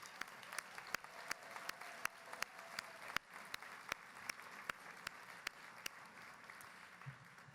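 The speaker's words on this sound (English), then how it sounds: "So can we please start with a hearty round of applause for our staffs?" Sparse, scattered clapping from a modest conference audience at a civil liberties leadership plenary, individual hand claps standing out irregularly over a quiet room hum rather than building into a full ovation.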